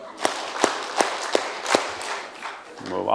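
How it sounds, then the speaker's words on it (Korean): An audience at a Bible lecture meeting clapping five times in unison, sharp evenly spaced claps from a crowd in a hall, then a faint voice afterward. "박수 5번 칩니다."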